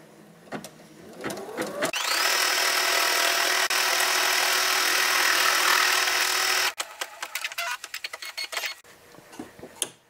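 An embroidery machine sews an applique placement stitch: a few clicks and a rising whir, then a steady, fairly loud buzzing hum for nearly five seconds, ending in scattered clicks and taps nearby.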